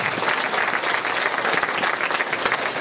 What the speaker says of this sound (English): Round of applause. Give it up for these guys.